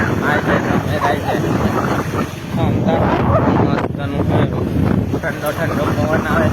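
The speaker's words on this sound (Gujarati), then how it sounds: "ઠંડો ઠંડો પવન આવે છે" Cold wind gusting across open farm fields, a loud steady roar buffeting the microphone throughout, with a voice speaking over it.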